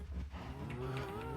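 A cow in Minecraft gives one long, loud, low moo that rises and wavers, heard close up with no talk over it.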